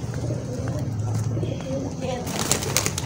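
Pet pigeons coo in low, soft bursts beneath steady background chatter and room noise, with a few brighter scuffs and clicks near the end.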